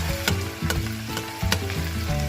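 Vegetables and vegan sausage sauteing in a pot for vegan Louisiana gumbo, a loud close sizzle broken by sharp stirring clicks at irregular intervals, with a low rumbling tone underneath and nobody speaking.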